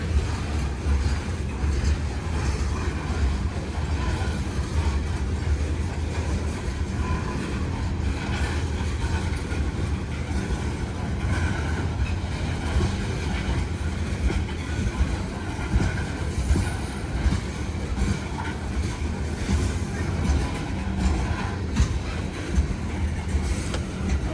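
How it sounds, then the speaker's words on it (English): A long coal train hauled by a single engine rolls past steadily, wheels rumbling and clacking over the rails with occasional squeals, a continuous mechanical drone throughout. "just one engine on that entire train"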